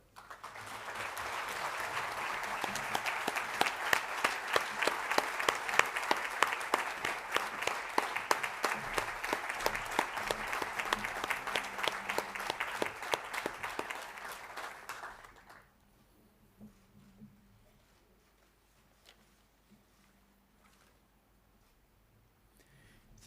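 Audience applause at a school awards ceremony after a ministerial award is announced, loud steady clapping that goes on for about fifteen seconds, then stops suddenly and leaves a quiet room.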